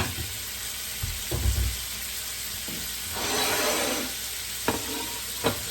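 Shrimp sizzle steadily in a hot pan under a constant frying hiss, with a few stirring scrapes and knocks of a utensil and a brief swell of louder sizzling midway, close up and without speech.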